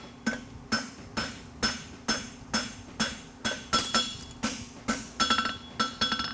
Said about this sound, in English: I'm just kind of leaning my hammer in, and this gives me the height.